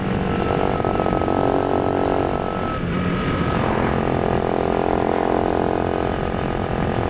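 A Honda Cub C65 motorcycle's small engine buzzes steadily while being ridden, loud and close with wind rush, easing briefly before picking up again.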